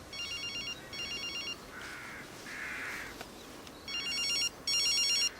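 A mobile phone rings in repeated warbling electronic bursts, moderately loud and close, with short gaps and a couple of softer tones between rings, no talk.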